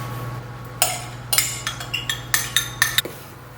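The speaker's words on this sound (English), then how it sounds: "Stir your dough mixture just until everything is incorporated." Utensil scraping and clinking in a bowl while scone dough with coconut oil and buttermilk is stirred, a series of close, sharp taps and scrapes at a steady irregular rhythm over a low background hum.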